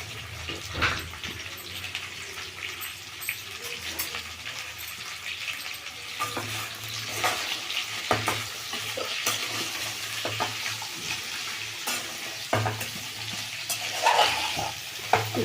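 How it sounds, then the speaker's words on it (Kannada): Okra (ladies' finger) frying in oil in a pan, a continuous close sizzle broken by repeated stirring scrapes and clatters, with bursts of louder crackle and no voices. "ನಾನು ಬಾಣಲಿ ಇಟ್ಟು ಎಣ್ಣೆ ಹಾಕ್ಕೊಂಡಿದ್ದೀನಿ, ಅದಕ್ಕೆ ಬೆಂಡೆಕಾಯಿ ಹಾಕ್ಕೊಳ್ತಾ ಇದ್ದೀನಿ"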